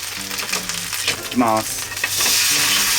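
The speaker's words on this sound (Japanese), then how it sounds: "こんな感じになったらもうひっくり返します" Green peppers fry in a hot pan with a steady sizzle under a brief spoken remark. The hiss swells louder and fuller as the pieces are flipped over.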